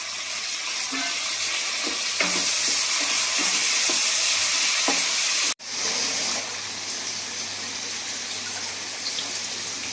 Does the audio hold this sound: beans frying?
yes